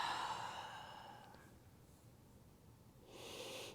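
During a vinyasa yoga flow, a soft, airy exhale comes at the forward fold. The breath fades away, and another breath rises near the end; both are close and quiet.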